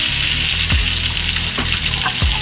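Rack of lamb searing in very hot olive oil in a skillet, a loud steady sizzle with small pops and crackles throughout.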